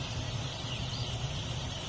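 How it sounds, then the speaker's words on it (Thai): Poultry on a broiler chicken farm, a dense continuous murmur of many birds heard as a steady, fairly faint wash with no single call standing out. "อันนี้เป็นฟาร์มไก่เนื้อนะครับ"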